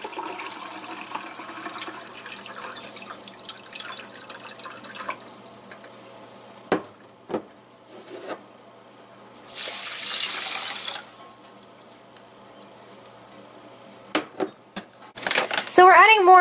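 Water runs from a kitchen tap into a pan of rice, about 2.5 cups, as a steady rushing burst for about a second mid-clip, surrounded by quieter clatter and short knocks.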